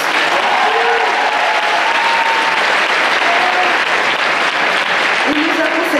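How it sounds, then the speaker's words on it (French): At a cosplay contest, a convention crowd applauds a guest with sustained, even clapping at steady volume, while an amplified host's voice cuts in briefly over it. "on peut l'applaudir bien fort."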